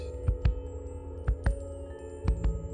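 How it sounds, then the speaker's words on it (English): A steady heartbeat pulse thumps low and close in paired beats, three double beats evenly spaced over a faint constant hum, with no voices. "the ever-present pulse of a heartbeat"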